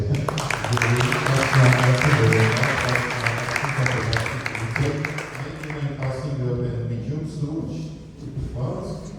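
An audience at an AI technology event in Armenia claps in sustained, dense applause that fades slightly toward the end.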